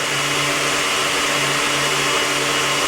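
A kitchen blender runs steadily and loudly throughout, a constant whirring motor drone with no pauses, while a meal of Mexican dishes with lime juice is being prepared.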